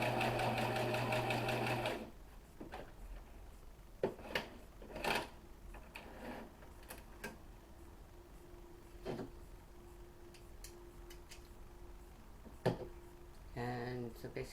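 A sewing machine runs in a steady loud burst stitching small Dresden plate quilt fabric pieces together, then stops, followed by quieter clicks, handling noises and a faint hum before a second short stitching run.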